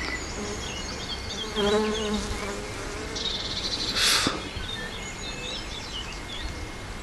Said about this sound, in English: they're still flying in and out of that hole.